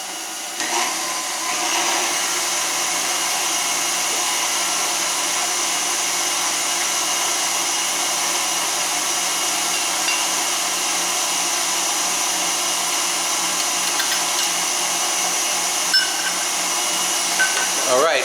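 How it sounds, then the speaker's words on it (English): An electric mixer beats egg whites with sugar toward stiff peaks, giving a loud, steady, unbroken motor whine that runs throughout with little change. "I'm going to continue beating the egg whites until they achieve stiff peaks"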